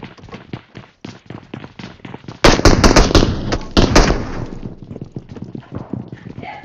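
Rapid gunfire bursts in PUBG Mobile during a gunfight: loud, dense cracking shots clustered in the middle, with lighter scattered pops before and after.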